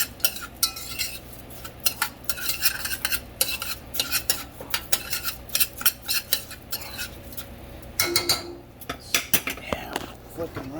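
A utensil stirs rice with butter in a pan, making repeated scraping and clinking strokes in an uneven rhythm with a soft sizzle underneath, and a brief louder clatter partway through.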